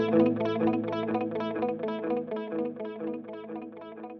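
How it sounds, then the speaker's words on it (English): An electric guitar played through a Fractal Audio preset with reverb and delay, a rhythmic pattern of repeated chords whose echoes ring and trail between strums, clear and alone. "Reverb and Delay is on the D block here."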